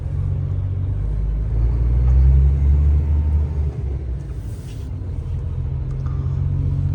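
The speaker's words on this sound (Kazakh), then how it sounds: "Стоянкаға келдік, машинаны қоямыз" A car's engine rumbles low and steady while it is brought into a parking spot at a truck stop, swelling briefly as it moves, then settling to a constant idle, with no talking.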